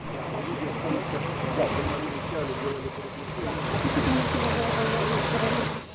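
Water rushes steadily from a large water main burst by a missile strike in a Kharkiv courtyard, a continuous broad gushing noise with people talking over it.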